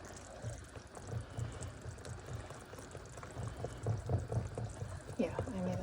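A whisked mixture of milk, half and half and flour is poured, a soft, continuous liquid gurgle and splash at low volume, with a person talking faintly near the end.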